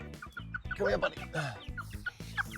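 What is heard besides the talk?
chickens clucking, egg layers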